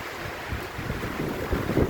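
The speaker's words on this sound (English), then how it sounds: "It's really windy right now." Gusty wind buffets the microphone outdoors at a vineyard trellis site, with low rumbling swells that grow stronger toward the end. No voices are heard.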